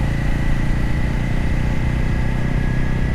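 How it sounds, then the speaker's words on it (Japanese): A motorcycle engine rumbles steadily and closely, recorded on a bike-mounted action camera with wind-noise reduction set to low, leaving a constant low drone without wind roar or voices. "エンジン音もしっかりと聞こえてきます。"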